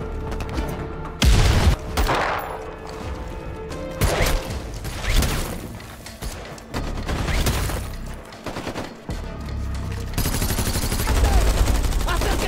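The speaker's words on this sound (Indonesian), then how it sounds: "Mereka melempar granat." Grenade explosions and bursts of gunfire in an action film, several heavy booms and rattling volleys in quick succession, loud and chaotic, with a narrator's voice over parts of it.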